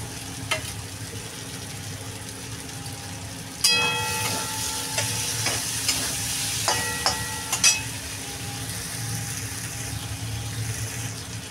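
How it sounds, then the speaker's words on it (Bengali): Paneer dropped into frying masala in a pan, sizzling steadily with clattering spoon scrapes and stirring knocks in irregular bursts, close and fairly loud. "এবার দিয়ে দেবো পনির।"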